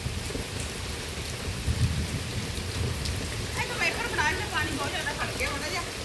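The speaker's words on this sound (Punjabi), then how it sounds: "ਸਵੇਰ ਦਾ ਮੀਂਹ ਪੈ ਰਿਹਾ" Rain falls steadily in a broad hiss, with low rumbling underneath and a few scattered drips and taps later on.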